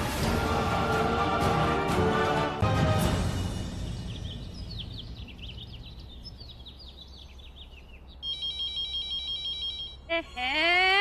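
A landline telephone in a home rings in repeated electronic trilling bursts near the end, after a stretch of loud dramatic music that fades out.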